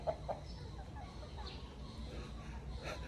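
Chickens in a rural mountain backyard cluck in a few short, faint bursts over a quiet outdoor background, with no talking.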